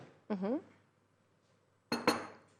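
A spoon clinks against a container while ingredients are measured for a homemade after-sun skin spray: a short cluster of close, bright clinks follows a brief voice.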